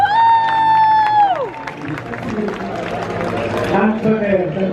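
An audience at a Marvel-themed costume contest breaks into applause and cheering after a high whistle-like tone slides down, and the steady crowd noise carries on to the end.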